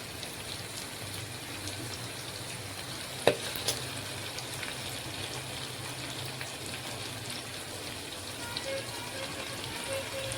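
Oil sizzles softly and steadily in a pan as fenugreek seeds fry, with a sharp clink near the start and a few faint clatters.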